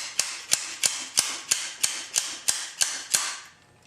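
A part being tapped out during a Nissan SR20DET engine tear-down: ten sharp metallic knocks in an even rhythm, close and loud, with no talking.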